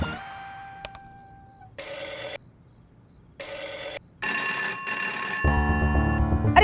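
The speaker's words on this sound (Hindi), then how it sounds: "नैना जाके फोन उठा।" A telephone rings in repeated bursts separated by short silences, with a different electronic ringtone-like tone joining toward the end.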